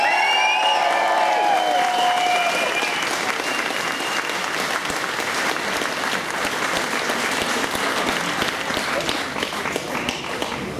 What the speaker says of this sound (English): please make some noise for Christian Iddon!